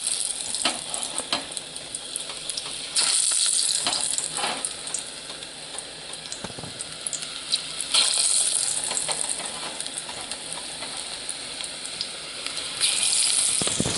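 Dandelion heads coated in seasoning sizzle and crackle steadily as they fry in hot grease, a continuous close hiss with occasional louder bursts and pops as more pieces drop in.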